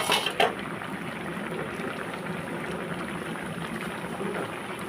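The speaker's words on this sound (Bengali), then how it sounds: "এই দেখুন ফুটে গেছে।" Pui metuli curry with leafy vegetable boiling in an open pan, a steady, dense bubbling simmer that holds at an even level throughout, with a brief clatter near the start.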